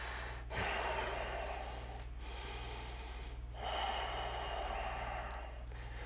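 Deep, slow breaths drawn in and pushed out during a yoga flow, two long exhalation bursts separated by pauses over a steady low hum, close and fairly quiet with no talking.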